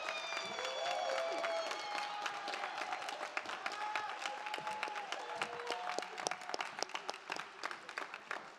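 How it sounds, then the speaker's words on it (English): An audience at a university drama school graduate commencement ceremony breaks into applause, sustained crowd clapping with some cheering that thins into scattered individual claps toward the end. "And now we can applaud."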